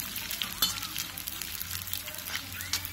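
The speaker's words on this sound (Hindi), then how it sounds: "हमने एक कढ़ाई में देसी घी गरम कर लिया है अब हम इसमें सबसे पहले फ्राई करेंगे ये गोंद" Edible gum pieces fry in hot desi ghee in a kadai over a low flame, giving a steady soft sizzle with small crackles and pops, fairly quiet and close, with no one talking.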